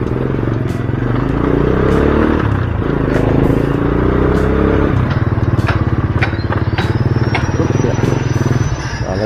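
A repaired motorcycle engine idles and revs close by with a steady low throb, mixed with clatter and scraping bits as it runs.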